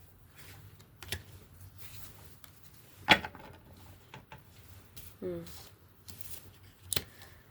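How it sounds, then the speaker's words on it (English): Tarot cards shuffle and slap softly up close to draw another card, with short riffles and a few sharp card snaps scattered through quiet stretches. "can we get another card, Spirit, to clarify this?"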